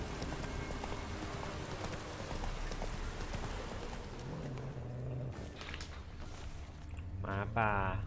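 Roach the horse galloping in The Witcher 3, rhythmic hoofbeats running under background game sounds, fading toward the end as voices come in.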